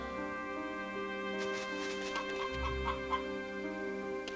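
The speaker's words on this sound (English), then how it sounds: "There's a lovely chicken that walks by the well." A chicken clucks by a village well in the video game Ys 1, a few short clucks over a steady looping game music bed, moderately quiet.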